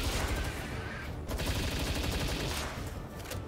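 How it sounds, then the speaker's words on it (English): Rapid bursts of automatic gunfire in the open-world creature-catching game Palworld, a dense, loud continuous fusillade of close shots with brief gaps, heard alone without talk. "Look, man, if you want me to use my gun, I'll use my gun."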